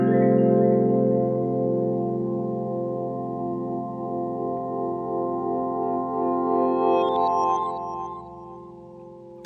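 A sustained chord from the GForce M-Tron Pro Metallic Aftertaste sound rings on steadily with layered tones, holding at an even loud level long after the keys are released and fading slightly only at the very end.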